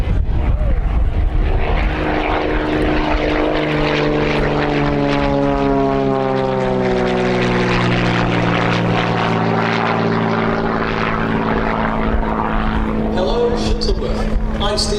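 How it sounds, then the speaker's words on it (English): Xtreme Air XA41 aerobatic propeller plane flying at an airshow, its engine droning loud and close with a pitch sweeping down as it passes, a commentator talking over the noise. "from the right, Steve Bakhtiari in the Xtreme XA41."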